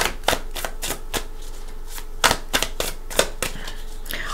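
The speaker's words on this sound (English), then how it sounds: "I'm going to shuffle for your cards today." Tarot cards being shuffled by hand, a series of crisp riffling bursts and taps spaced unevenly across a few seconds, close and fairly quiet with no talking.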